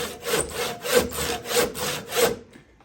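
A hand saw cuts a kerf in wood with about six even back-and-forth rasping strokes, close and clear, before stopping.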